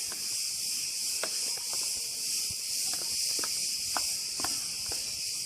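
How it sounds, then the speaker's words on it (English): Crickets chirp steadily in the garden of the Malia Park hotel on Crete, a dense continuous high-pitched trill at midday, with faint footsteps and small knocks underneath. "That's the crickets."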